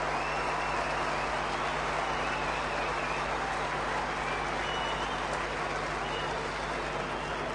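A large Australian rules football crowd applauds at a Western Bulldogs versus St Kilda match, a dense, loud, unbroken wash of clapping that fills the whole stretch.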